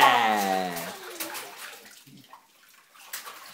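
Bath water splashing and sloshing in a bathtub while a child is bathed, a loud wet burst at first that fades into quieter, intermittent splashes.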